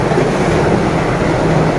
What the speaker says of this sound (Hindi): मेट्रो है इसलिए पुरानी हो गई है